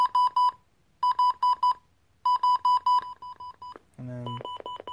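A Midland WR300 weather radio sounds its alert tone at low siren level with the speaker covered. Groups of clipped, high electronic beeps repeat in a steady pulsing pattern, followed by a brief rising warble, all heard close and fairly quiet.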